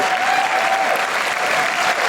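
Audience applause at a stand-up comedy show, a steady dense wash of clapping that holds at full strength throughout, close and loud with no voices over it.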